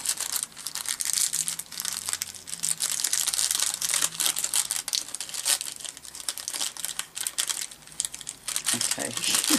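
Packing tape on a parcel of glassine bags is cut and picked at by hand, giving dense crinkling, tearing and scratchy plastic rustles close up, in busy irregular bursts.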